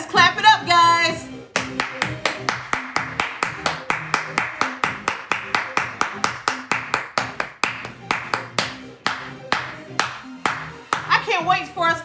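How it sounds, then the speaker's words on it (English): An audience claps together in a steady, even rhythm, led from the stage at a live gathering, with loud sharp claps in unison for about nine seconds and a voice speaking before and after. "Let's clap it up, guys."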